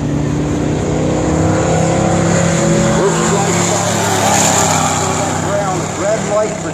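A Chevrolet Camaro accelerates hard in a drag racing time trial at Miramichi, its engine drone steady and loud throughout, with crowd noise and a voice talking over it.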